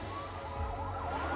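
A police car siren wails faintly during a freeway chase in the Enter the Matrix video game, its warbling tone sitting over a low engine rumble, brief and without speech.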